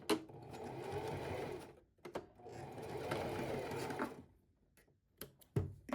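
A sewing machine stitches bias tape, opened fully flat, diagonally onto a reusable cloth pad, running in two steady bursts of motor whir with a pause between and a few clicks and thumps near the end.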